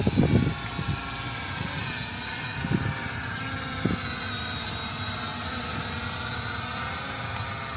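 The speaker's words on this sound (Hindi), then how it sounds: "अपना जो नॉर्मल वाला E88 अभी तक बढ़िया फ्लाई कर रहा है" An E88 camera drone flies overhead with a steady, continuous motor whine that holds at an even loudness throughout, with a few faint thumps early on and no speech.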